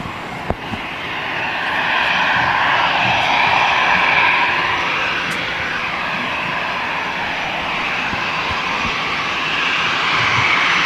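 An EasyJet airliner lands at Manchester Airport, its broad, steady engine roar and rushing air sustained loudly and close throughout the evening rollout.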